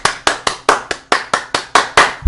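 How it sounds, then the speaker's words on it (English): Nine sharp hand claps in a steady, slightly uneven rhythm, close and loud, with no voices over them. "Let me clap my hands"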